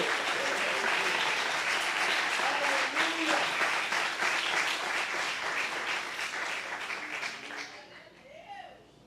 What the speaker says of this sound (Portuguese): Se você crê, aplaude a Jesus e diga, eu vou viver isso.